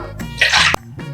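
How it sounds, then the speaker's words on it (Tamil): Two tumblers of water poured into a cooking pot, a short burst of splashing pour in the middle, bracketed by brief clatters. "இப்போ 2 டம்ளர் தண்ணி ஊற்றணும்."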